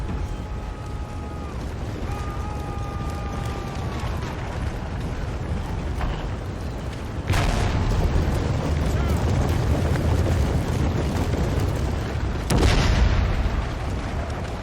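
Napoleonic artillery fire in a Napoleon Total War battle: distant cannon booms roll over a constant battlefield rumble, with two sharper, louder blasts standing out midway and near the end.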